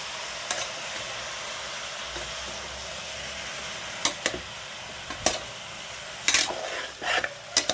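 Chicken with turmeric stirred in oil, a soft steady sizzle with several sharp scraping strokes of a spoon against the pan, close and clear.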